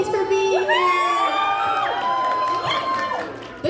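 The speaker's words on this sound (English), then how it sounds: "This is a really big crowd." A large convention audience at a Twisted Wonderland anime panel cheers and whoops loudly and continuously, many high voices shouting together, filling the room for several seconds.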